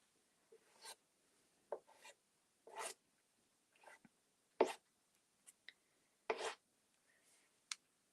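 A spatula scrapes reactivated paint off a bench in short separate strokes, each a brief raspy scrape with quiet gaps between them, close to the microphone.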